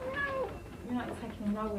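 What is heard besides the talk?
kitten meowing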